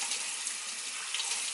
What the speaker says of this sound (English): I open the water and I run through the water